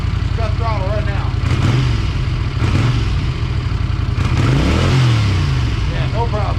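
A 1982 Honda Silver Wing GL500 motorcycle engine, warmed up, revs repeatedly with rising and falling throttle blips over a steady loud idle, close and continuous.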